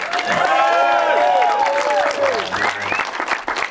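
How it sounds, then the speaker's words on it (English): Comedy club audience breaks into sustained applause mixed with loud cheers and whoops, a dense, close burst of clapping that fills the whole moment. "Can we have a round of applause, please, for Louis?"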